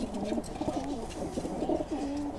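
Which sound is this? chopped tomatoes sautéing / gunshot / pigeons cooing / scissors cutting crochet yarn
pigeons cooing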